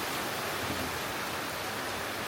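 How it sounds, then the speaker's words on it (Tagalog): Rain falling outdoors in India, a dense, even hiss of drops that holds steady throughout with no voices. "Ulan na, Bob."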